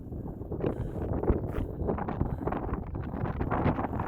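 Gusty wind batters the microphone on an open stretch of the Pacific Crest Trail in the Emigrant Wilderness, a dense low roar that swells and dips in bursts for several seconds.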